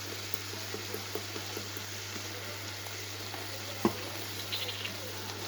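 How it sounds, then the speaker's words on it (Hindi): Mutton qorma frying in half a cup of oil, a low steady sizzle throughout with a louder clatter of stirring near the end. "अब हम इसे भून लेंगे। हाफ कप हमने ऑयल ऐड कर लेना है"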